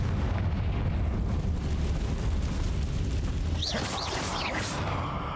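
A fire-spell blast goes off in the Hogwarts Legacy video game, a loud, dense roar of game noise peaking in a burst with crackling, sweeping effects about two-thirds of the way through, with no talking.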